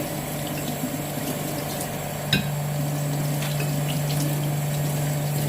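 Water runs while soap is rinsed out of a Ninja Foodi grill's cooking pot, giving a continuous, close splashing flow with a single clunk partway through and a low hum beneath.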